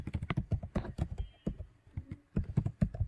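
Keys clatter on a computer keyboard in quick bursts of clicks, close and distinct, with a short pause midway before another rapid run of typing.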